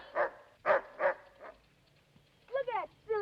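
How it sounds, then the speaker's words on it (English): A dog chasing birds gives a few sharp close barks in a quick cluster, then after a pause a couple of higher yelping, whining cries. "Look at that silly old dog chasing birds."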